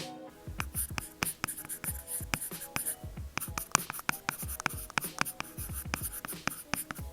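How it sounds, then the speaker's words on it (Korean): A pen writing on an iPad with an anti-fingerprint screen protector film, recorded close as quick scratchy strokes punctuated by crisp taps, continuous for several seconds with no voices. "이번엔 지문 방지 필름에다 적어 볼게요."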